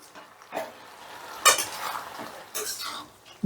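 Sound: stirring fried lentil dumplings (bori) in bottle gourd poppy-seed curry

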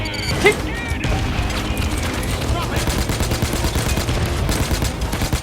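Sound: gunfire in the video game Payday 2

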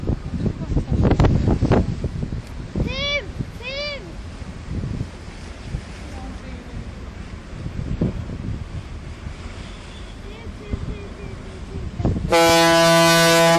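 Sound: large ship's horn sounding, from a played video

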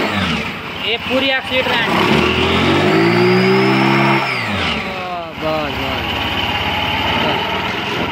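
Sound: TVS Jupiter scooter engine started and revved

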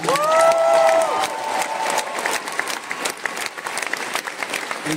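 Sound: concert crowd applauding

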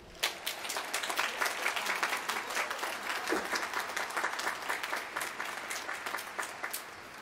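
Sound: applause for the graduating class

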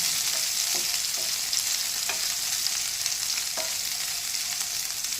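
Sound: bell pepper (capsicum) frying in hot oil

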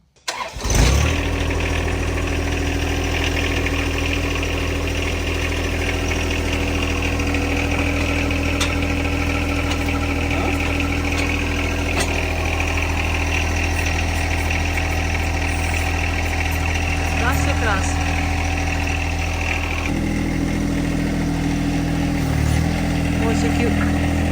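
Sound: tractor engine starting and idling

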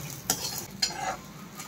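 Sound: dry roasting salt and chillies, stirred in pan

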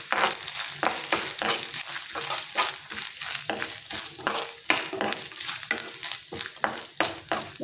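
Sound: grated coconut being sautéed in a pan

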